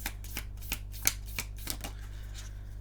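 Tarot cards riffled and laid down in a quick run of crisp papery flicks and snaps, roughly eight light strokes with a sharper slap near the middle, close and soft over a low steady hum, with no voices.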